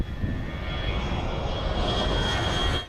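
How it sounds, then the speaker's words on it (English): An airplane passes low over a beach near Phuket airport in Thailand, its engine roar loud and close, holding a steady, powerful rumble throughout before cutting off abruptly. "It didn't take long to find the planes"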